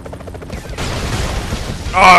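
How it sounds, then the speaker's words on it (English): Explosions and rapid gunfire in the video game Broforce, dense crackling bursts building to a loud blast at the end, with a voice talking over it. "Oh, explosions!"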